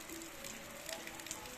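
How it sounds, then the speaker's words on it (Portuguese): Rain falling in the town of Cacimba de Dentro in rural Paraíba, a soft, continuous patter with faint scattered drops and a low hum underneath. "Chovendo aqui na nossa cidade de Cacimbo de Dentro, interior da Paraíba"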